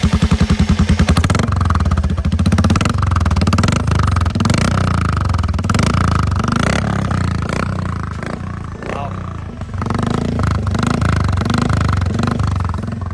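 A custom Royal Enfield motorcycle engine runs loud and close through a modified exhaust, a deep steady thumping rumble with rev changes and mechanical clatter, someone talking faintly over it.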